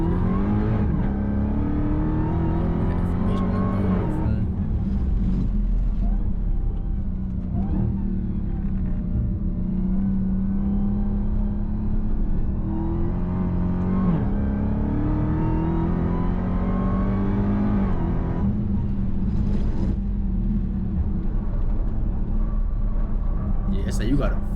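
A Dodge Challenger Hellcat Redeye muscle car drones and revs through a track lap, its engine rising and falling in long pulls while a person talks over it throughout.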